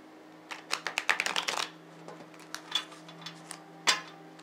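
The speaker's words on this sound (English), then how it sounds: "I will shuffle the cards and we'll begin." A deck of Visconti tarot cards is shuffled close by: a quick burst of riffling flutters and taps, then scattered softer card clicks and slides over a faint steady hum.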